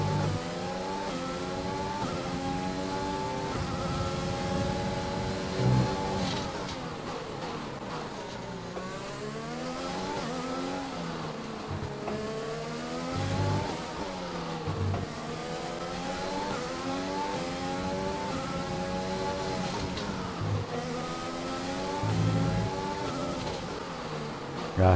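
An F1 race car engine lapping in the F1 2020 game at the Abu Dhabi circuit, loud high-pitched revving that rises through the gears and drops sharply for corners, repeating throughout.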